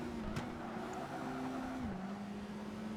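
Porsche Cayenne racing in Project Gotham Racing 2, a steady loud engine drone with a shifting pitch as it takes corners quickly, continuous throughout with no talk.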